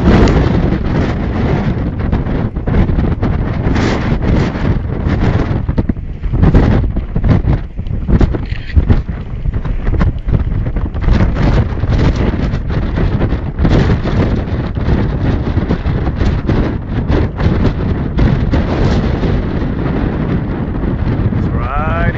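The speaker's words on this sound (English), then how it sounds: "The wind that starts at the beginning of a thunderstorm can be pretty amazing." A strong gust-front wind at the start of a thunderstorm roars and buffets loudly and continuously against the microphone, with a voice partly buried beneath it.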